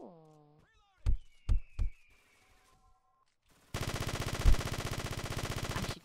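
Video game gunfire: three heavy separate shots, then a sustained rapid automatic burst lasting a couple of seconds, loud and close.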